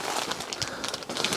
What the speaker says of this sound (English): I've got a gazebo over my head because it's pouring with rain.